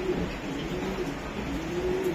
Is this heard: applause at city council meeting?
no